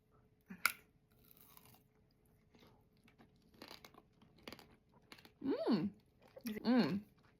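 Sugar-coated whole tangerine tanghulu is bitten and chewed close up, with a sharp crunch of the candy shell followed by quieter chewing and a few soft crackles.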